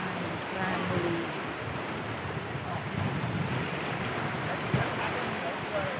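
Steady broadband wash of surf rolling onto a beach at Pranburi Forest Park, Thailand, with wind buffeting the microphone throughout and no distinct breaks between waves.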